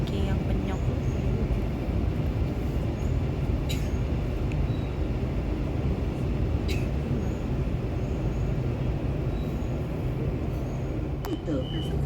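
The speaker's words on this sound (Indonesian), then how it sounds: "Terpantau di jalur sebelah sedang ada yang melintas, yaitu kereta api barang ya" A freight train passes on the neighbouring track beside a stopped Malaysian ETS train between Ipoh and KL Sentral, a loud steady rumble and rolling roar filling the whole stretch with a few sharp clanks.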